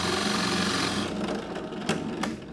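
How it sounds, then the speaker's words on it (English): A Forstner bit drills into maple wood with a dense, steady grinding whir that fades after about a second, followed by a couple of brief scraping strokes. "I drilled down with Forstner bits to get my depth"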